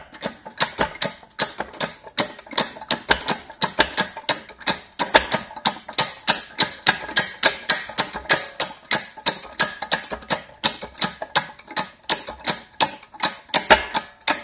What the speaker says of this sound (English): What does it look like when you lift the MASKO Hydraulic Floor Jack?